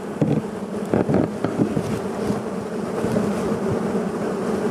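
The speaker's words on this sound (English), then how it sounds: "This is how you safely handle these bees." Bees from a hive found in a loaded bus at a Liberian border post buzz in a dense, continuous drone, with a few louder close passes early on.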